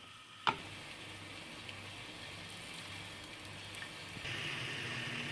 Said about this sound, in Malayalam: വളരെ ലോ ഫ്ലെയിമിലായിരിക്കണം ഫ്രൈ ചെയ്യേണ്ടത്